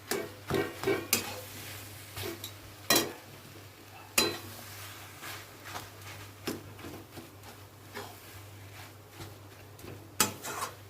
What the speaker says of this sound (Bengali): এর মধ্যে ভালো করে মিশিয়ে নিতে হবে আলুটাকে, আলু সিদ্ধটাকে।